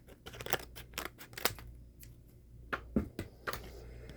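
Quiet, crisp scissor snips cut through packaging in a series of irregular sharp clicks, close up with no talking.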